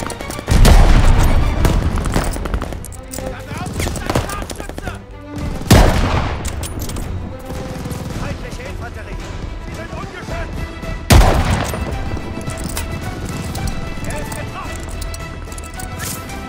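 Gunfire in the Call of Duty: Vanguard video game during a World War II battle: dense bursts and booming blasts under a continuous loud battle mix, with sudden heavy impacts and voices over the action.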